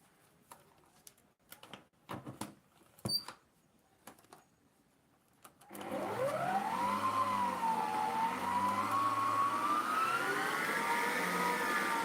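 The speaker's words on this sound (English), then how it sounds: "I'm going to return this to my mixer again" An electric mixer beats fruit cake batter for a wedding cake, starting after a few scattered knocks and then running as a steady, close motor whine that rises in pitch and holds.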